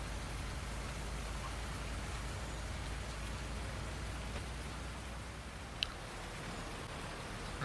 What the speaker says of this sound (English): apparently it's going to keep raining for a while